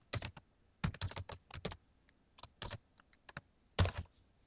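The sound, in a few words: typing JavaScript code on a computer keyboard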